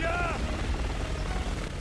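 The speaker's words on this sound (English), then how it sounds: "Another helicopter." A helicopter in the Resident Evil 6 video game, a loud steady rotor roar filling the whole stretch, with a brief tonal sweep at the start.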